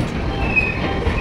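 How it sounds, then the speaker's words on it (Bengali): Howrah–Bikaner Express (22307) pulling into Jaipur station: a steady, loud rumble of railcars with a thin wheel squeal rising briefly above it. "22307 হাওড়া বিকানের এক্সপ্রেস এখন জয়পুর ঢুকছে, জয়পুর স্টেশন।"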